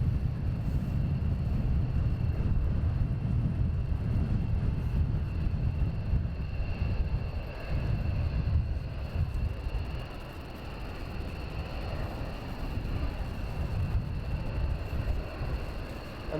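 F-15 Eagle fighter jets roar during a mass takeoff at RAF Lakenheath, a loud, sustained low rumble heard from a distance that surges and gradually eases off.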